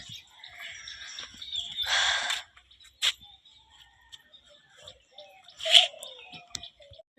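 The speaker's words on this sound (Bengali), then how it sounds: "পাখির ডাক" Birds chirp outdoors around a rural home with chickens, in scattered short calls and one louder burst near the middle, over a quiet background with a few faint bumps.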